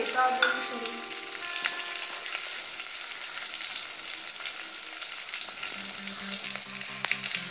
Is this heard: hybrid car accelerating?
no